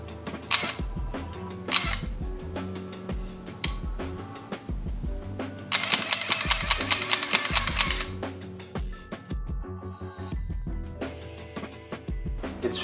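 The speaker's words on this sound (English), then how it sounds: "spring-driven motor drive system that both cocks the shutter, fires the shutter, and winds the film" A clockwork spring-driven motor drive on a Robot Royal 24 square-format 35mm film camera fires and winds repeatedly, giving a busy mechanical whirring and clicking with a loud sustained burst in the middle, close and without speech.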